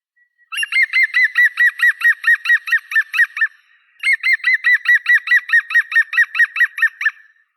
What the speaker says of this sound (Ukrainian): звуки зеленої жовни.